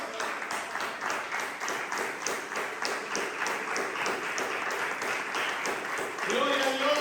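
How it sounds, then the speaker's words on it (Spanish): A church congregation claps and applauds steadily for the Lord throughout, a dense rhythmic patter of many hands that swells slightly near the end, with voices mixed in. "Den un aplauso al Señor."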